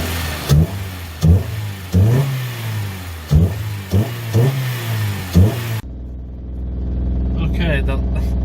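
Turbocharged EF sedan with a welded differential driving off, engine revving in repeated bursts up close with tire scrub, then cutting to a quieter, steady drone with some higher clatter.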